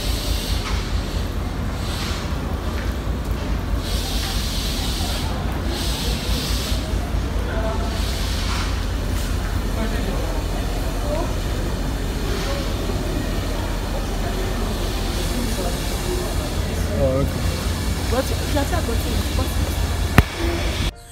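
A train rides along its rails with a steady, loud rumble and hiss that continues throughout, heard from inside the carriage, with faint voices in the background.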